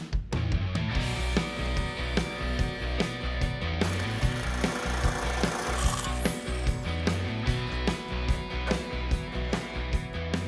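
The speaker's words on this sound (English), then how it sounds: "I'm gonna cut 2 6-inch strips and just fold them." Sheet metal strips are cut and then folded on a sheet metal brake in a custom garage, giving a dense run of loud, rhythmic metallic clacks and grinding, close up with no talk.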